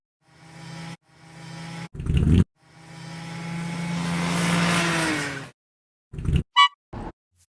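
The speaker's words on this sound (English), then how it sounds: "Sound is truck passing." A truck passes in a long, rising and fading engine roar, framed by short bursts of motor noise and a few sharp clanks, with no voices.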